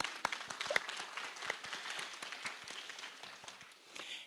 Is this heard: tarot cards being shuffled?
no